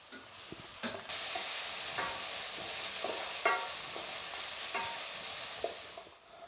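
Onions sizzling in a hot pan with salt, a steady bright frying hiss broken by several stirring scrapes and clinks, close and alone without talk.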